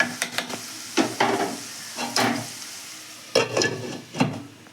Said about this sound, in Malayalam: നമുക്ക് അത് ഇളക്കി കൊടുക്കാം നമുക്കിത് മൂടി വെച്ച് കൊടുക്കാം